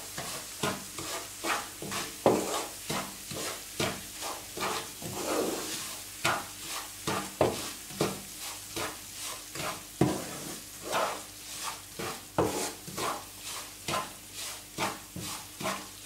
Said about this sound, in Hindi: घी गर्म हो चुका है, इसमें मैं ऐड करूंगी सूजी। चलाते रहना है और मीडियम फ्लेम पे हम इसे भुनेंगे।